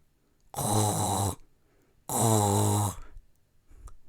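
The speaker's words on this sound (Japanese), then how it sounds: "寝ている時に出る音、いびき。" Two loud, drawn-out snores, each about a second long with a rough, rattling tone, separated by quiet breathing pauses.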